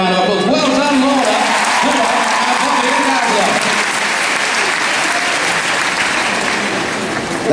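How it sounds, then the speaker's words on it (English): A large arena audience at the HOYS 2015 Scurry Driving championship final applauds a scurry driver, loud and sustained, with a voice talking over the clapping at the start before the applause carries on alone. "Give them a round of applause."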